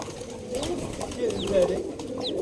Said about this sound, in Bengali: এখানে আছে দুশো পিস দুশো প্লাস কবুতর রয়েছে